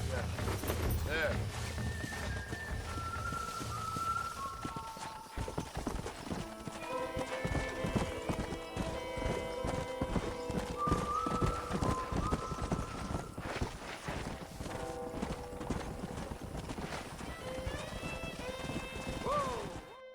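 Horse hooves clip-clop in steady rhythms in Red Dead Redemption on PS3, with repeated neighs and whinnies over them and speech mixed throughout.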